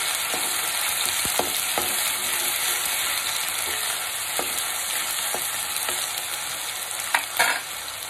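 A large spoonful of spice paste for a spicy Telangana-style chicken gravy curry fries with a steady, close sizzle and hiss while it is stirred continuously, with a few scraping knocks and a louder clatter near the end.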